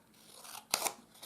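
Close, crisp snips of scissors cutting the end off a paper pennant for a handmade cat-themed card, two quick closing cuts standing out clearly at a moderate level with no talking.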